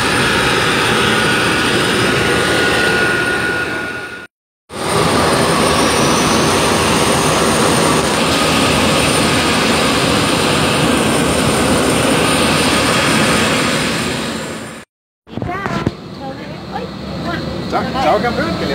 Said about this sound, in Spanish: Así que aquí está nuestro querido avión.